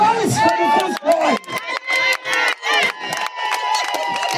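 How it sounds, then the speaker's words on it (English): Wedding guests cheering and shouting together in a loud, dense crowd roar that rises and dips in bursts, with voices calling out over the noise. "Applause for the first boy."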